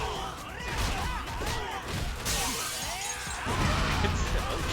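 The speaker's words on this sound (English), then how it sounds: "you can break glass" Glass shattering in the video game Yakuza Kiwami 2, a dense crashing spray of breaking glass and debris that fills several seconds at moderate level, with no talk over it.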